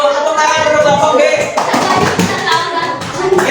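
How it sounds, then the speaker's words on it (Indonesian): A group claps together in a classroom quiz session for a team, steady dense applause filling the whole moment, loud and close, with voices mixed in underneath. "Tepuk tangan untuk kelompok B."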